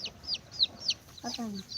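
Backyard chickens and roosters in a small household flock cluck in short, quick bursts, a few sharp high calls followed by lower throaty clucks, close and fairly quiet.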